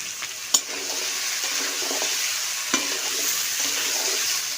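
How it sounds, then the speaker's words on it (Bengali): Giant taro pieces sprinkled with salt and a little turmeric fry in oil left from frying fish, giving a steady close sizzle with two sharp clicks of a spoon against the pan. "মাছ ভাজা তেলের মধ্যে মানকচুটা ভেজে নেব"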